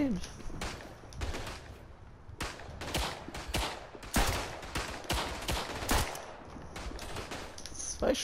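Repeated hunting rifle gunshots in the video game Verdun crack in irregular bursts, some in quick pairs, fairly close, with faint background noise between them.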